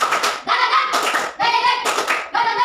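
Schoolchildren in a classroom perform a rhythmic 'tepuk semangat' clapping chant: bursts of group clapping with chanted voices, repeating roughly every half second to a second, close and loud.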